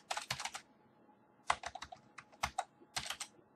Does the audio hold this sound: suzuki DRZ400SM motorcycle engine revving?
no